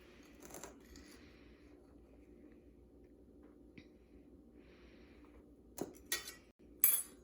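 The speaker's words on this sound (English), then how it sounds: "Now mix up the flour" A toddler stirs flour in a mixing bowl with a spoon, giving soft scraping and occasional sharp clinks of utensil against the bowl, quiet overall with a few louder knocks near the end.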